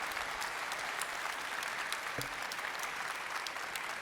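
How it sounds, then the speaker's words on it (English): A cosplay contest audience at MagicCon Amsterdam claps steadily in a continuous wash of applause. It sounds moderately distant and keeps an even level throughout. "give a big round of applause for all the players"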